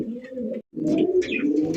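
Pigeons coo up close in two throaty, rolling phrases split by a brief pause, loud and clear with no talk over them.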